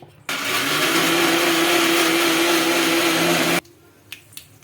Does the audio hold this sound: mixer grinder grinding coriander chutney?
yes